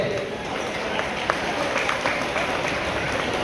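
An audience applauds to welcome an MLA at a Krishnashtami function in KGF, Karnataka, with steady crowd clapping that sounds somewhat distant and rumbly and carries on throughout.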